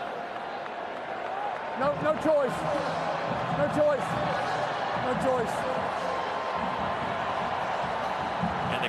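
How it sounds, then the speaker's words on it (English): Stadium crowd noise at a Vanderbilt vs Tennessee college football game late in the fourth quarter, a steady broad roar with rising swells of cheering, while an announcer talks over it. "the crowd making some noise"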